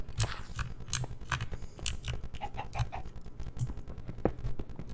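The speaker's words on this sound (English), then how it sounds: "Why is there a chicken down here?" A Minecraft chicken clucks in short, repeated bursts in the underground of a hardcore survival game, fairly quiet against clicky game noise with no talking.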